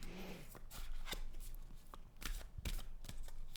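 A deck of tarot cards is shuffled by hand close up, giving quiet, papery riffles and soft slaps in irregular bursts, with no voices over them.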